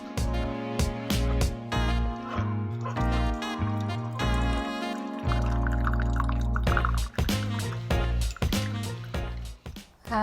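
Keurig K-Supreme Plus coffee maker brewing a 4-ounce cup at temperature setting 3, with a low pump hum under irregular drips and trickles of liquid, close and steady throughout.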